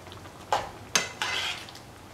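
Prawn curry in coconut milk stirred in a pan over high heat, three distinct scraping clinks of a utensil against the metal pan over a low sizzle, close, with no talk.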